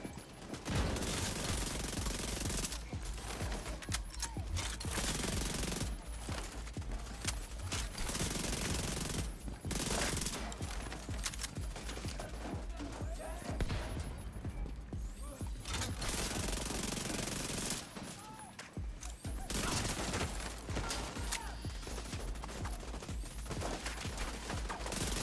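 SMG fire from The Division 2 in heroic PvE play, loud close bursts of rapid automatic shots repeating again and again, with brief pauses between magazines and a dense wash of combat noise.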